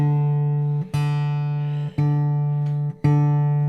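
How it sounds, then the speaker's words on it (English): Guitar strings plucked near the fretboard for a mellow tone, four clear, sustained notes of the same pitch in even succession, each ringing warmly before the next pluck, with no talking. "I can get a really mellow sound if I pluck near the fretboard"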